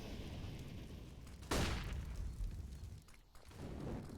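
An incendiary grenade going off in Counter-Strike on the Inferno map, a single loud whooshing burst partway through that fades into a crackling tail over faint background game noise.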